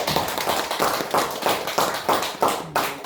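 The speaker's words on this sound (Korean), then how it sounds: "잘 되게 오기를 바라는 마음으로 박수 한번 해드리겠습니다." A church congregation applauds during a Sunday worship service, a steady run of hand claps with regular loud swells, close and continuous, with no voices over it.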